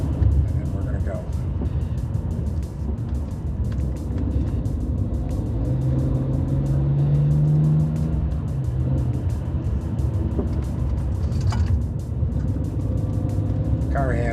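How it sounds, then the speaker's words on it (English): A 2009 BMW 335xi four-door sedan drives along after new brakes, struts and shocks, with a steady close road rumble and engine drone inside the cabin and a voice over it. "Car handles exceptionally well for a four-door sedan."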